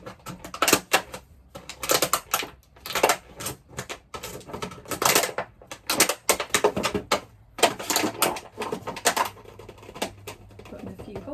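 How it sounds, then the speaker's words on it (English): Scissors snip holes in the bottom of a plastic plant pot, giving bursts of close, crisp cuts and crunches separated by short pauses, with a voice now and then in between. "I just snip holes in the bottom of one of them, just for a bit of drainage"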